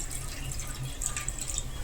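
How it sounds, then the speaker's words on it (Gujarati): Water pours steadily into a wok with a continuous splashing hiss, fairly close and even in level, with no talking. "કઢાઈમાં આપણે અડધો ગ્લાસ જેટલું પાણી નાખશું"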